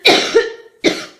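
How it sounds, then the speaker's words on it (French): Two harsh, close coughs from a person irritated by cheap incense smoke, the second following after a short pause. "Je pense que c'est ça qui me fait tousser."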